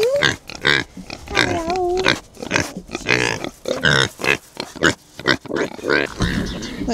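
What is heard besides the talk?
pigs grunting on a farm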